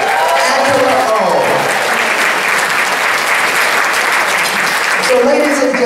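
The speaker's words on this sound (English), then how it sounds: "Let's give her a big round of applause." Loud, sustained applause from a gala audience honoring a speaker, steady dense clapping throughout with voices and cheers mixed in the crowd.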